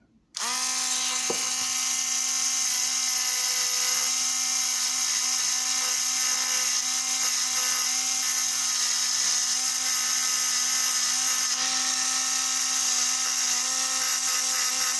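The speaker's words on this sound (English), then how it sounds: "Dremel-like tool, and I'm going to reshape these just a little bit to make them a little more rounded" A small Dremel-like rotary tool whines steadily at high speed, close and loud, as it reshapes model train parts, holding one sustained pitch for about fifteen seconds after starting abruptly, with no talking.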